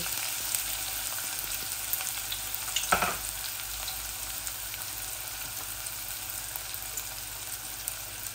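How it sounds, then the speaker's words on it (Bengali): Onions are added to pabda fish frying in oil, giving a continuous crackling sizzle with a brief stirring rustle partway through, close and steady. "এখন আমি পরিমাণ মতো পেঁয়াজ দিচ্ছি মাছের মধ্যে।"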